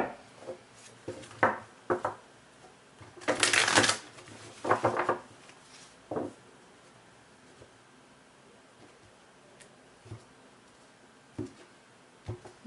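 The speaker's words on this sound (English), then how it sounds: "Okay, that was a good shuffle." Several bursts of cards being shuffled and riffled close by, with quiet pauses between, ending in a few light taps.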